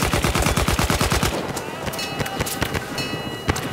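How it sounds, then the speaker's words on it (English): Rapid automatic gunfire in the video game Battlefield 1, a Sinai Desert Rush match, a fast steady burst of shots followed by scattered single cracks and more distant firing, with a voice briefly heard. "Shooting snipers from the hip now."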